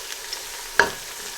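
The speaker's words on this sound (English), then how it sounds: "I'm now ready to add the whole spices." Whole spices (cardamom pods, cinnamon stick, cloves and black cardamom) dropped into a hot pan for spinach rice, giving one sudden sharp sizzle burst that fades over a low background hiss.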